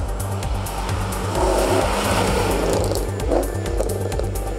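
A 1992 Holden VP Commodore race car driving at speed, its engine droning loud and steady with rhythmic gear and tire noise, close and continuous with no voices.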